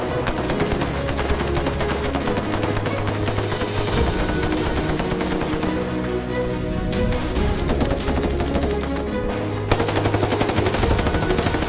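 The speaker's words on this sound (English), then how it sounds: "Fire warning shot." Sustained rapid bursts of heavy gunfire from a Coast Guard cutter firing warning shots at smugglers' vessel, loud and dense, briefly pausing in the middle before resuming.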